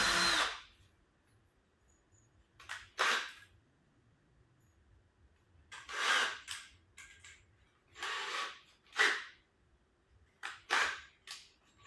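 Electric drill running in a workshop while setting up station molds, several short whirring bursts of a second or so each, separated by pauses, fairly close and alone without talk.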